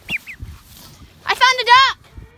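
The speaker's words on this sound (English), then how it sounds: "I found a duck!" An escaped duck gives a couple of short calls, then a loud, harsh run of honking quacks close by, with brief quiet gaps between.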